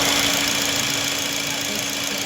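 A car engine idles steadily during a service check with the AC fan running, a constant close hum and whir with a faint low rumble.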